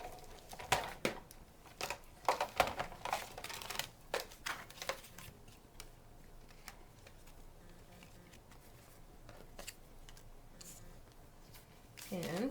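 A hand-cranked embossing machine feeds a card through a square lattice folder, giving a quiet series of clicking, ratcheting taps in the first half that then fades to near silence.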